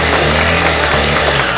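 A flooded Ural motorcycle engine runs loudly and steadily up close, a rough buzzing drone with a continuous throb and no voices over it.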